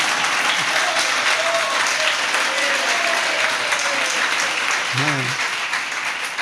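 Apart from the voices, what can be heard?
audience applause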